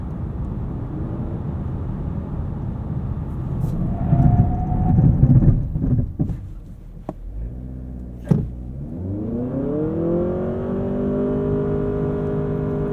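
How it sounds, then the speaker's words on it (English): A 2023 Honda Accord accelerates from a stop up a slight incline, engine rumble building, a gear change clunk partway, then a rising whirring drone as speed climbs, heard from inside the cabin. "let's sneak in a quick 0 to 60. This is slightly uphill, but we'll do our best."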